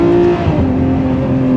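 A Ferrari 599 GTO engine revs hard under acceleration, a loud, steady, close-up howl that holds its pitch for a moment alone.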